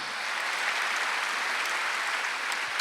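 A church congregation at a Wednesday worship service claps in a sustained, thick wash of applause, many hands at a steady volume from start to finish with no voices standing out.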